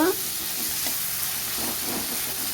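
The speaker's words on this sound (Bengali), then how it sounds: "চিংড়ি মাছ ভাজা বসিয়ে দিয়েছি" Prawns fry in hot oil in a pan, giving a loud continuous sizzle close by, with a few soft stirring bursts in the middle and no talk.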